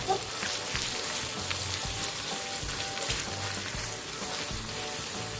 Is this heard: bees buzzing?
no